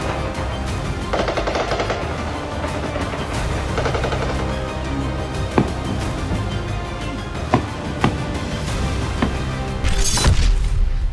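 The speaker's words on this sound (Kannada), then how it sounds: "ಸಂಧಾನದ ಮಾತಿನ ಮಧ್ಯೆಯೇ ಗುಂಡಿನ ಮೊರೆತ" Sustained gunfire along the India-Pakistan border: dense, continuous bursts of automatic fire with sharp individual cracks and a louder volley near the end, steady and fairly close throughout.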